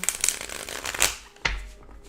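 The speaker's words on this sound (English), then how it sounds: "Madam Gemstar, gave our Oracle deck a good shuffle." An oracle card deck being shuffled close up: quick riffling and flicking bursts of cards, a sharper snap near the middle and another toward the end, with quieter shuffling between them.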